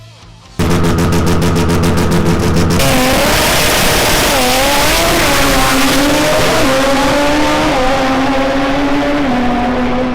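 A Mazda RX-8 race car with a twin-rotor 13B rotary engine runs at full speed: a brief buzzing drone, then a loud, sustained, high-pitched rotary howl that rises and wavers as it pulls hard.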